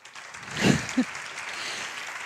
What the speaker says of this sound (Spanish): Así que otro aplauso más, venga